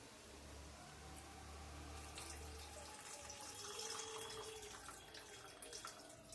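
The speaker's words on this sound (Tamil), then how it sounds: "தேவையான அளவு புளி தண்ணி ஊற்றிக்கணும்." Tamarind water is poured into a pot of South Indian fish curry (meen kulambu), a soft, close, continuous trickle of liquid, quiet and alone.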